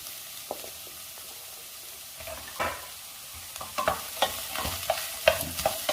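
Chopped shallots and green chillies frying in coconut oil in a pan, starting as a quiet sizzle and then building with frequent clinking, scraping stirs.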